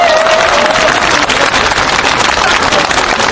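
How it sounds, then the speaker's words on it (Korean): A crowd at a political rally against Blue House surveillance gives loud, continuous applause welcoming Professor Cho Kuk, a dense wash of clapping throughout. "여러분 큰 박수로 환영해 주시기 바랍니다"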